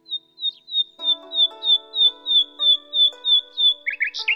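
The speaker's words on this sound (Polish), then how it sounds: "Z największą chęcią, odpowiedział słowik i zaśpiewał jak mógł najlepiej." A nightingale sings a bright, steady run of repeated whistled notes, with a soft tonal accompaniment joining underneath partway through and no speech over it.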